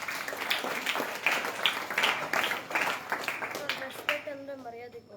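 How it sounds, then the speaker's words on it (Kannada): A group of students at a camp claps in quick, uneven bursts, moderately loud, ending as children begin speaking. "ಓಕೆ ಎಸ್, ಚಪ್ಪಾಳೆ ತಟ್ಟಿಪ್ಪ"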